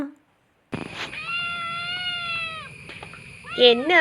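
A kitten gives one long, drawn-out meow, then a shorter rising cry a moment later, close and clear.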